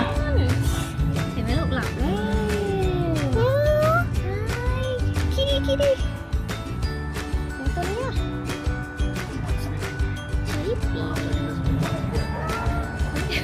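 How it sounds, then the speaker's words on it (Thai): Several cat meows rise and fall over a busy, noisy background with people talking nearby. "แวะดูน้องเหมียวนอนหลับปุ๋ยสบายๆกันค่ะ"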